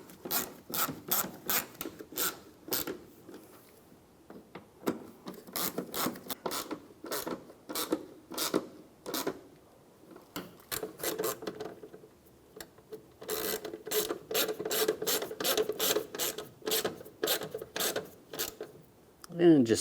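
Screws on the air filter box of a 2007-2013 Chevy Silverado being tightened by hand, heard as repeated rasping ratchet-like bursts in uneven rhythm, close and fairly loud, with brief pauses between runs.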